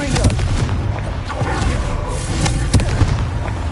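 A Confringo fire spell cast during a Merlin trial in Hogwarts Legacy gives a series of loud, punchy booms and bursts, with a couple of sharp cracks near the end over steady game ambience.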